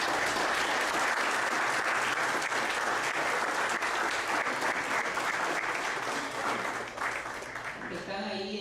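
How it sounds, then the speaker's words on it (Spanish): An audience at the presentation of a Nicaraguan legal library claps for two deputies, a steady sustained round of applause filling the room before it fades as a voice begins speaking. "que le demos un aplauso, ¿verdad?"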